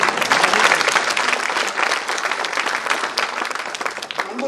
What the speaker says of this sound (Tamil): ஒரு ஆண்களாவது கொஞ்சம் பலமாக கைத்தட்டுங்க